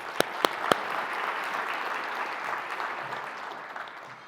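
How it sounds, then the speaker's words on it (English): An audience at a higher education convening gives a speaker a round of applause, opening with a few sharp distinct claps that swell into steady, moderately distant clapping that fades near the end. "Let's give him one more round of applause."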